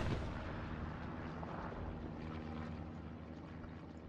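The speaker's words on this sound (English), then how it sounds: "Nobody's bothering to interdict the artillery, I notice." Distant artillery fire rumbles continuously in the World War II shooter Hell Let Loose during a tournament match, a dense, steady low roar of booms with no clear separate blasts.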